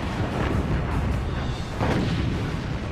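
Broadband rumbling booms from a British battleship's 14-inch guns firing full broadside salvos at the Bismarck, a dense continuous roar of heavy gunfire with a stronger burst near the end, loud and close.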